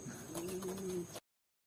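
A racing pigeon, a champion bird from a south winter race, gives a soft, steady cooing call for about a second, close by, and then the sound cuts to silence.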